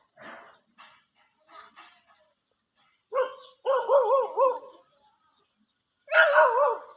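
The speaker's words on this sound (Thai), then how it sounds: "พี่หมาเห่าลูกนอนเลย พี่หมาเห่า" Near a house, a dog lets out a few soft yips, then two bursts of wavering, howling barks, loud and close, with brief quiet gaps between them.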